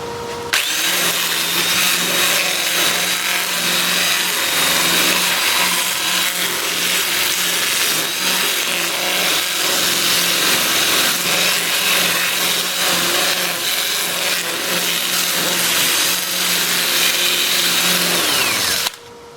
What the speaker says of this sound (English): I'll switch to my 2-inch disc starting at 100 grit, working up through 400. I'll have the lathe spinning in reverse for that at about 250 RPM